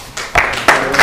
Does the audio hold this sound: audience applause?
yes